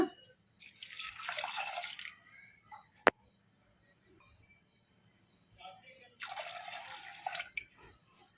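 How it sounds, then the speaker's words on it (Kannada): Water pours into a pot in two separate splashing streams of a couple of seconds each, with a sharp click between them and quiet room noise. "ಅದೇ ಕಪ್ಪಿಂದ ಎರಡು ಕಪ್ಪು ನೀರು ಹಾಕೋಣ"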